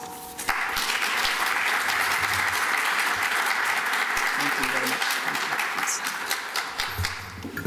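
Audience applause welcoming Professor Laurent Dubois to an art talk tied to an exhibition: dense, steady clapping from a full room that holds loud and even for the whole stretch, with no voices standing out.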